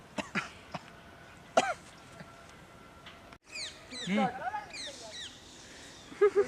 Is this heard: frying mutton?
no